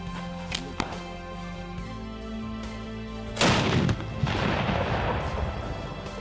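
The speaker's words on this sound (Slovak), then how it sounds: "kto by si nechcel vystreliť z luku či malého dela." At a medieval military camp, a loud booming blast from a small cannon follows a few sharp distant cracks, then a lingering rumbling roar.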